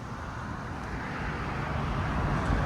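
Exhaust from a 2004 Nissan Frontier 2.4L stick shift fitted with a Flowmaster Delta 40, a steady low droning rumble with a smooth, clean tone that swells slightly toward the end, heard alone with faint wind.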